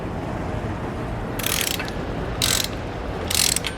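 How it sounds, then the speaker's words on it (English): Torque wrench ratcheting while tightening U-bolts during a steering stabilizer install on a 2021 Winnebago, with three short bursts of rapid clicking over a steady background hum. "I'm gonna go ahead and torque down our U-bolts as well."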